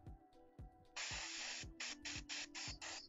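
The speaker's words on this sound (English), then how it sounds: "spray the wood" Spray paint hisses onto the wood of a Bug Fairy garage model kit in several short, close bursts, broken by soft clicks and taps between the sprays.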